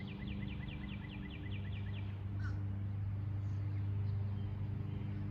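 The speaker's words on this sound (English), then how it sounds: "You might notice the sound of the birds surrounding us," Crows cawing outdoors: a quick run of repeated caws at a distance, then fading, over a steady low hum of nearby activity.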